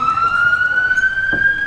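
A siren passes near a canoe blessing, one sustained rising wail sounding over distant traffic and faint background voices.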